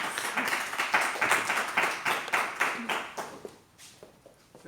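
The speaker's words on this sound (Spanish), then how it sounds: "Este aplauso es para la más pequeña" Clapping from a small church Bible-study group for the youngest girl, a short burst of sparse, uneven hand claps that thins out and fades toward the end.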